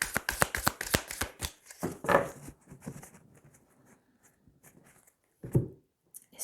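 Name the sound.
shuffling tarot cards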